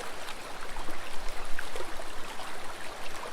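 A flowing river stream murmurs and trickles in a natural setting, a soft, continuous bubbling wash with small splashes, heard alone at moderate level.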